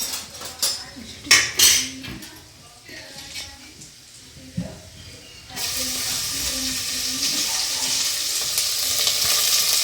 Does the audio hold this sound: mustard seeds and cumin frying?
yes